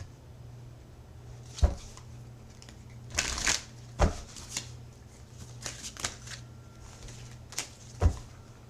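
Tarot cards are shuffled and drawn, giving a series of soft riffling, slapping and sliding sounds that come in irregular bursts close by with no talking.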